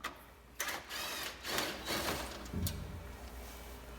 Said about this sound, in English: use the same socket to remove the bolt in the front